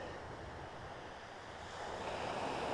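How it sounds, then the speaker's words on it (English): Waves wash steadily onto a shingle beach at Milford on Sea in Hampshire, a continuous broad roar of surf and churning stones that swells a little louder toward the end, with no voices. "I love just listening to the waves crashing against the shore there"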